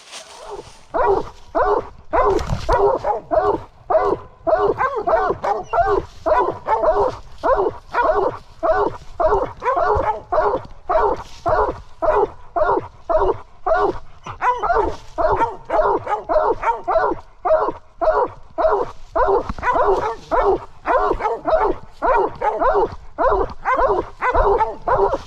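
Blood trailing dog barking outdoors on a deer hunt, a long run of rapid, regular barks and yips, loud and close, continuing without pause.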